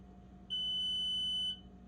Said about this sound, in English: And then it beeps to tell you it's done.